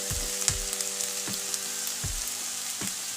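Raw amaranth leaves frying in a pan for a traditional tamarind stew, a steady close sizzle broken by regular stirring knocks roughly every three-quarters of a second, no talking.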